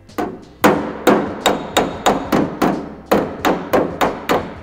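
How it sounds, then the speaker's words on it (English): A hammer taps a tack weld on thin sheet metal backed by a dolly while a 1939 Zephyr door is planished. Roughly a dozen sharp, close metallic strikes come in a steady rhythm, each ringing briefly before the next. "So I'm gonna put the dolly right up underneath this tack and just gonna give it a tap."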